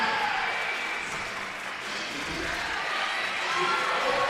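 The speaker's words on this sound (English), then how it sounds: "Everyone cheering for them both at the moment" A crowd cheers and applauds in a school gym during a unified basketball game between Cicero-North Syracuse and ESM, a steady dense roar of noise throughout.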